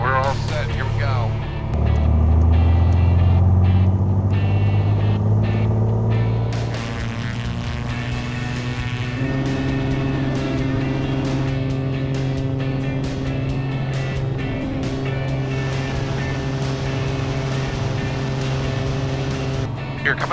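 Piper airplane engine on takeoff from Bluffton, a recently crashed and repaired plane whose engine was overboosting, sends a loud, steady propeller drone that swells early and then holds an even pitch, with voices talking over it.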